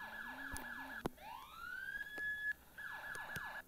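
Police car siren in a patrol video game, a wailing and yelping electronic tone that sweeps up and down in short repeated cycles, fairly faint, with a few sharp clicks and no talk.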